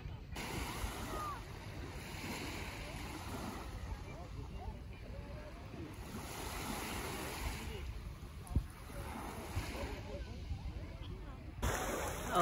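Sea surf washing onto a beach at Taşucu, Turkey, a steady low wash rolling in slow swells with wind buffeting the microphone, loud and continuous throughout, one brief thump near the end.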